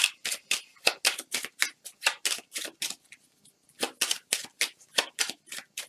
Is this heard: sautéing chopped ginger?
no